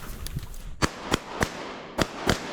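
Five shotgun shots ring out during a wood duck hunt, sharp and fairly close, spaced irregularly across a couple of seconds over outdoor background noise.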